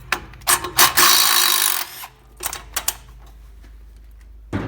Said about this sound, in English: I gotta just undo this clamp here real quick if I can get the drill to work